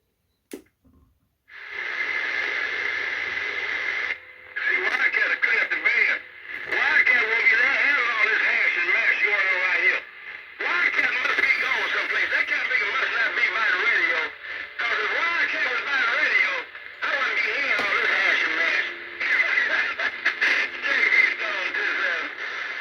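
CB walkie-talkie radio hooked to a base station coax cable, crackly band-limited radio chatter with voices coming through in bursts separated by short gaps, close and fairly loud.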